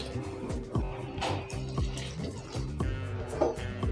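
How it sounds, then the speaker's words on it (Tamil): Water is poured into a pan of tamarind curry made with cluster beans, producing a close, bubbling splash and gurgle that comes in uneven pulses with no talk. "இதில் கொஞ்சம் தண்ணி ஊற்றி"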